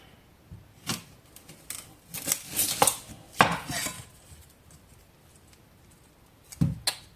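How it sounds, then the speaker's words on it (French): A knife cuts through a large onion on a board, giving a handful of irregular sharp chops and crunchy slices, close and crisp against a quiet room, with no talking. "j'ai pris un gros oignon, vous voyez. Je vais le couper en deux."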